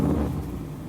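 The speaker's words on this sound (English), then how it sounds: "You have some exhaust leak somewhere" A car's engine idles with an exhaust leak somewhere, giving a low, rough, steady rumble close by for under a second, with no voices.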